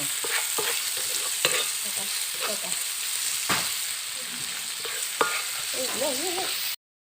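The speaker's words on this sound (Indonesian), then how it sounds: "Sudah lalu baru kita masukkan cabenya" Chilies hit a hot pan of sizzling stir-fry with lemongrass and ginger, a steady close frying hiss with scraping stirs and clinks, and a brief bit of voice near the end before it cuts off.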